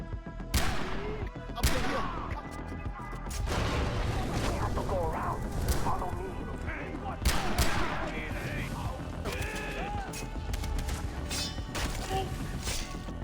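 Gunfire from a gun in Far Cry 3 on insanity mode: sharp, loud shots spaced a second or more apart, with crashing impacts and someone talking over them.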